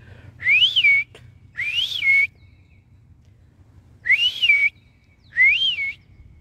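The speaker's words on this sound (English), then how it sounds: "Usually when I do my little whistles, one or some come, or they whistle back with me." A person whistles in a park to call birds: four separate rising-and-falling whistled phrases, each about half a second to a second long, with pauses between them, clear and close over a low steady rumble of background hum.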